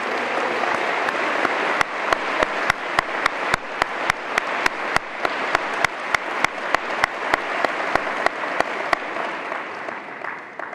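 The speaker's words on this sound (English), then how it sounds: "Please join me in a round of applause." A conference audience at a cystic fibrosis plenary session applauds award winners: dense, steady clapping filling the hall, with crisp nearby claps punctuating the wash.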